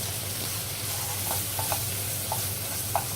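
Onions and coriander powder stirred in a hot pan: a steady sizzle of frying with a few soft, close scraping strokes of the spoon, no talking.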